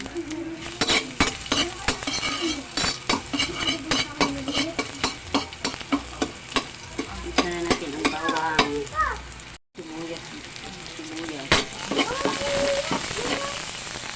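Garlic sautéing in a pan for a simple Filipino chayote and taro dish, a steady sizzle broken by repeated clinks and scrapes of a utensil stirring against the pan, with a voice talking intermittently.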